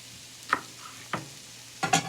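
Onions and green peppers sizzle in a pan on a stove, with a few short bursts of frying and stirring standing out over a low steady hiss.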